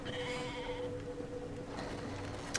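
A sheep bleats in the Brothers: A Tale of Two Sons video game, one long wavering call over steady game ambience, fairly close.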